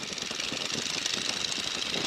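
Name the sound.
Boeing N2S-3 Stearman biplane engine power increasing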